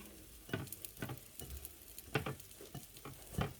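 Egg omelette frying in a pan on a stove, a soft sizzle broken by scraping, tapping spatula strokes at irregular intervals, fairly quiet and close with no voices.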